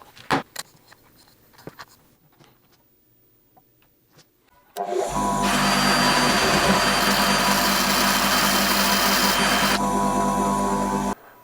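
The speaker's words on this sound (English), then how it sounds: "For that, I use my cordless drill and the bench grinder." Quiet clicks and handling noises, then a loud, steady grinding whine as a bench grinder sharpens a steel nail, running continuously for about six seconds before stopping.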